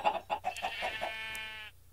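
Chickens in the video game Minecraft, a quick series of short clucks followed by a longer, drawn-out call, close and clear against a quiet background.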